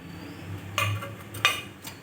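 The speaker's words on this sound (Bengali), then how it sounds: "তারপর আমি ভেজে রাখা গাটি কচুটা দিয়ে দিচ্ছি।" Fried taro pieces going into a pot of prawn curry and being stirred, with a few short scrapes and clinks of a spoon against the pot over a quiet background.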